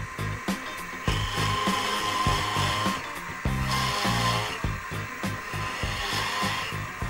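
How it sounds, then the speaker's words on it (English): A 1/2-inch end mill enlarges a hole in a metal part for nut clearance while building a precision oscillating steam engine, producing a continuous grinding cut with rhythmic chattering pulses, close and fairly loud, with no talk. "We're going to enlarge this hole now with a 1/2-inch end mill to provide clearance to install a nut on the bottom."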